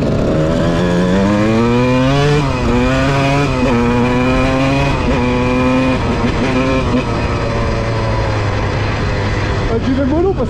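Suzuki RM125 and Honda CR125 two-stroke dirt bikes ride across a meadow, their engines revving loudly up and down in rising and falling whines, continuous and close throughout.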